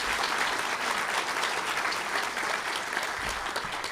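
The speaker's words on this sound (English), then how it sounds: "give yourself a round of applause" A large audience at a university fall convocation breaks into sustained applause, a dense, even wash of many hands clapping in a big hall.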